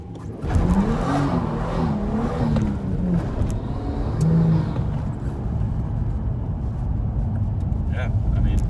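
A Nissan Skyline R34 four-door turbo with an inline RB engine drives along, a smooth steady engine hum with gentle shifts in pitch and road noise, while someone talks over it throughout.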